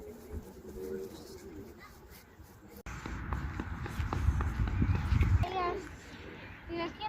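Pigeons coo softly amid outdoor park sounds near the Mondego River, with children's voices, footsteps and scattered chatter nearby.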